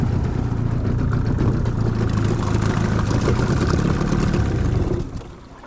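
A Carolina Skiff's outboard motor runs slowly with its tilt set too deep, a steady low droning hum that holds evenly and then drops off sharply near the end, with no voices.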